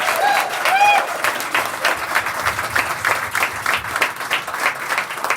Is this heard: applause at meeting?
yes